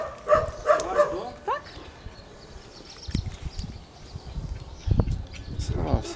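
Dogs inside a house let out a quick run of sharp, high barks and yelps at the start, then fall quiet under shuffling, thumps and nearby people talking.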